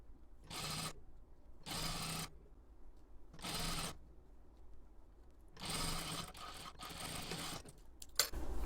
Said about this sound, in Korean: 안쪽 옆선도 박음질을 할 거예요